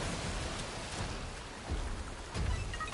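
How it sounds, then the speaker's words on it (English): Rain pours steadily in the video game Synduality: Echo of Ada, a dense continuous hiss of falling water with faint low rumbles swelling near the end, no voices. "It started raining."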